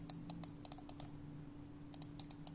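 Right button on an Aorus M2 mouse pressed repeatedly, a dozen or so sharp, quiet clicks in two uneven bursts separated by a brief pause, close and clean with a low hum beneath.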